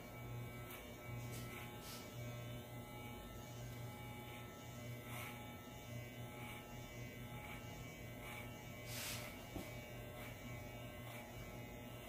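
Electric hair clipper fitted with a number 6 guard, cutting the top of the hair: a continuous buzzing motor hum, close and even, broken by brief brushing sweeps as the blade passes through.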